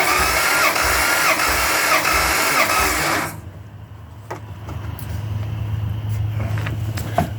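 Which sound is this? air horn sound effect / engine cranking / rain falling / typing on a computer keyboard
engine cranking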